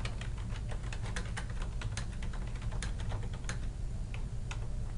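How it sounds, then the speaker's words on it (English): Steady, brisk typing on a computer keyboard, a continuous run of close, crisp key clicks with no pauses, heard alone over a low hum. "I can click right here and type"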